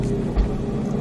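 A Roush Mustang RS3 on a track at Speed Vegas rumbles at steady low revs just after an upshift to third gear, a loud, close, continuous engine drone.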